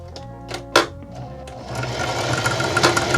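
A sewing machine stitches fabric for a dog cage cover: a few short separate clicks and whirs, then a steady close rattling run of stitching that carries on to the end.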